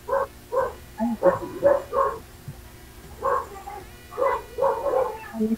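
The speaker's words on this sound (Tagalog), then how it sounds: "Mga aso ko sa kalsada yun" Several dogs bark out on a street in a series of short, clustered yaps and woofs, some sharp and high. The bursts come in two runs with a brief lull between them and sound moderately close.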